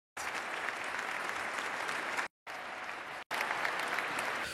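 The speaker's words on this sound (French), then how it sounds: "Tout le monde a l'air d'applaudir." A crowd applauding a presidential announcement on official gender policy, a dense continuous clapping roar cut abruptly by two brief silent gaps from edits before resuming at the same level.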